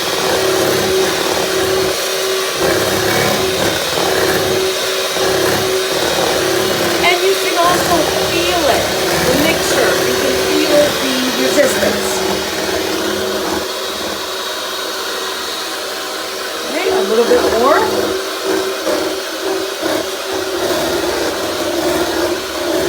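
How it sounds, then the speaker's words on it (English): An electric mixer whirs loudly and continuously as it beats a refrigerator dessert mixture until it thickens, with a steady motor drone and slight shifts in pitch, while a person talks over it. "Now I've stopped the mixer because we're more than halfway there."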